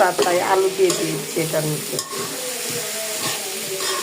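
Bitter gourd frying with potatoes and shrimp in a pan, a steady close sizzle with stirring scrapes running under a voice speaking throughout.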